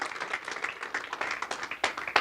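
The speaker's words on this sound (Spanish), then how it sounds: "Le des ofrenda de palmas al Señor por la bendita palabra" A church congregation claps in uneven bursts during a Spanish-language sermon, a moderate patter of hands that swells and fades with a few sharper claps near the end.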